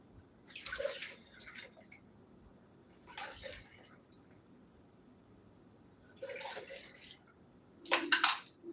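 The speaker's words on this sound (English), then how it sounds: "Rinse out the lid." Water runs in four short, faint bursts while a drink container lid is rinsed out, with quiet pauses between them at close range.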